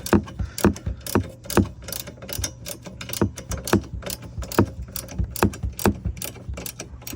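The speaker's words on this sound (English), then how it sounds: "tightening up the nut on this side while I hold the bolt on this side because there's not enough room" A ratchet wrench clicks in quick repeated strokes while tightening the exhaust nut and bolt on a Polaris Sportsman 110 ATV, a close, steady metallic ticking pattern with short pauses.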